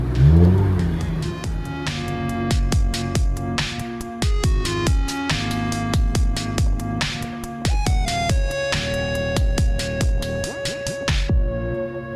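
A Lamborghini engine revs and accelerates in repeated bursts, loud and close, with sharp throttle blips and gear changes echoing in a parking garage.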